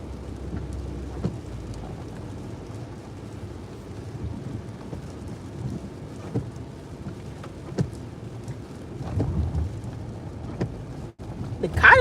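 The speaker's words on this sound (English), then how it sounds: "It's raining." Outdoor rain falls as a soft, steady patter with scattered sharper drops and occasional low rumbles, while people talk faintly nearby.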